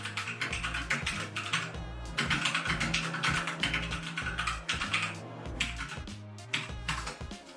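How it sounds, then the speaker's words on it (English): Keys clatter on an RK71 mechanical keyboard in a quick, uneven run of sharp close clicks and thocks, with short pauses between bursts of typing. "So let's see, I'm going to type something."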